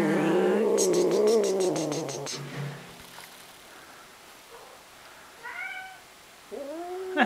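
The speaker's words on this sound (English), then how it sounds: "That's my other Bengal in the bathroom. If you just heard that little meow." A cat meows several times, starting with a long drawn-out yowl, then a few short, softer meows later, fairly close in a quiet room.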